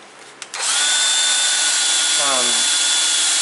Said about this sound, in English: I'm going to drill a 1/2 inch hole through it